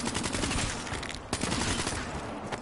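Rapid gunfire in Black Ops 3 on PS4, a dense continuous burst of automatic shots with sharp cracks throughout, loud and up close with no voice over it.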